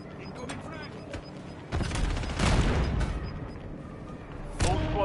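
A frag grenade blast in Call of Duty: Warzone, heavy and booming with a long rumbling tail, followed by a second loud burst near the end over gunfire and mechanical clatter.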